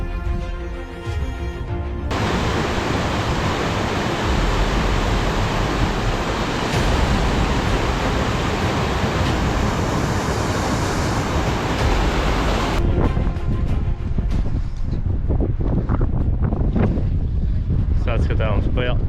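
Strong wind roars on a foggy, exposed mountain climb at Kjerag, a loud, continuous buffeting rush across the microphone that dominates the middle, with brief voices at the start and end.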